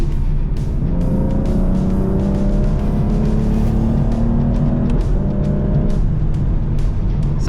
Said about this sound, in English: But yeah, this is gonna be the last time that this car sounds like this.